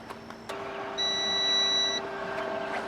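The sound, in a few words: beep from a power inverter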